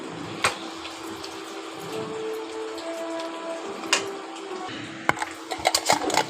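Chicken with curry leaves and salt sizzles and sautés in a pan, a steady soft crackle broken by a few sharp clicks and scrapes of a spoon near the end.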